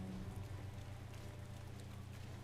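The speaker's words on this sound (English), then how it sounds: "Why can it rain when we're in the middle of Hyrule Castle?" Steady rain falling at Hyrule Castle in Zelda Breath of the Wild, a faint, even patter with a low hum underneath.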